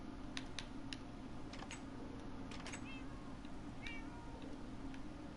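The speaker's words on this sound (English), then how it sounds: "So we'll go down and get the cats" Cats (ocelots) in Minecraft give a few faint, short meows scattered through the clip over a low, steady background hum, with light clicking sounds in between.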